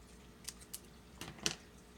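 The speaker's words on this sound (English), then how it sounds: "And get my scissors out here." A few short, crisp snips of scissors cutting paper for a handmade page, spaced irregularly, close and fairly quiet, with no talk.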